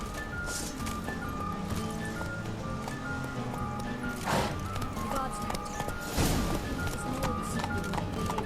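A horse gallops in The Witcher 3 video game, the hoofbeats a steady rhythmic clip-clop under faint game ambience and music, with a couple of louder thumps near the end.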